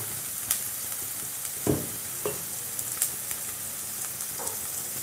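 Onions sauté in a pan with a steady, moderate sizzle, broken by a few scattered scrapes and taps of a spatula.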